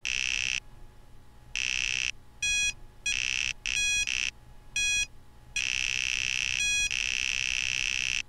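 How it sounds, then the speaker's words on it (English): Serious Sam game audio from a Palm OS PDA, harsh buzzy electronic bleeps and tones in bursts and longer blasts, tinny and loud, separated by brief low-level noise gaps. "this is how Serious Sam sounds on the Palm OS"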